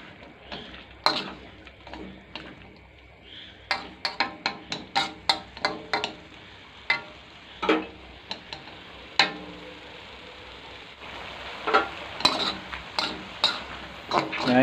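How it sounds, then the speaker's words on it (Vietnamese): Beef and vegetables stir-fried in a pan, with a steady run of sharp utensil taps and scrapes against the pan over a low background hiss, close and moderately loud. "Đây, mình xào một lát là được thôi."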